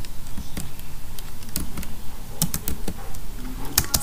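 Someone types C code on a computer keyboard, producing close, uneven clusters of crisp key clicks with a few sharper strokes and short pauses between bursts, no talking heard.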